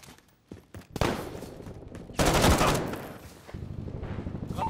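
Loud bursts of automatic gunfire in the video game Call of Duty: Modern Warfare, a few scattered shots then dense sustained volleys rattling close, with a heavy blast midway and fire continuing to the end.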